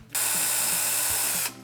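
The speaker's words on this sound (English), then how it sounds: "After you punch the hole, we're going to drill it out with the 1/8 drill bit." A power drill with a 1/8 inch bit bores a hole in a metal snowboard bracket, giving one steady, loud, close high whine of just over a second that starts and stops abruptly, with no talking.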